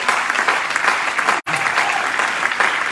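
A church congregation applauds during a Spanish-language sermon, producing dense, continuous clapping with a very brief cut partway through.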